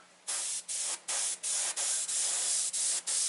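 An airbrush sprays paint onto a rose in rapid repeated hissing bursts, about eight short pulses with tiny gaps between them, close and loud with no talking.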